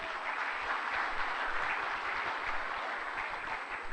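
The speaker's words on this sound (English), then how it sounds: "A round of applause to all of you." A large conference audience applauds steadily, a dense, continuous wash of clapping hands that holds at an even, fairly loud level throughout.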